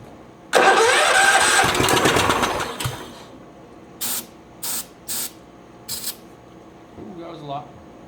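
A workshop pump sprays in a loud, dense hiss lasting a few seconds, then fires in four short, evenly spaced bursts, with a faint rattle trailing off at the end.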